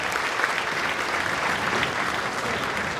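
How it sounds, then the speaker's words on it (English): An auditorium audience at a high school junior spring concert applauds Dr. Thompson, a steady, dense wash of clapping that holds evenly for the full few seconds with no voices over it. "I want to give a round of applause."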